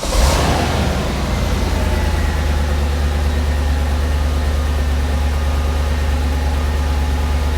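An Audi C5 RS6 engine idles after a cold start, a steady, loud low rumble with a constant hum and no change in pitch throughout.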